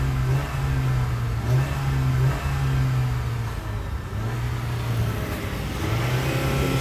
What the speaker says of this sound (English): you can hear that clacking